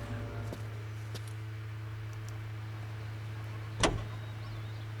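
A car in the video game L.A. Noire idles with a steady low engine hum, broken by one brief, sharp swish of movement partway through before the drone settles again.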